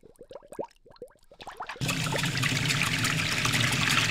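A tap runs steadily while something is rinsed under it in the Bibi und Tina horse-farm game, a loud, continuous splashing rush that starts abruptly after a few soft clicks and taps and holds to the end.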